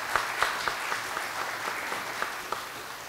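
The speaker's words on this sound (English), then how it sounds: "let's give one more round of applause" Congregation at a traditional church service claps in a round of applause, a mid-distance wash of hands with a few sharper individual claps standing out, moderate and steady.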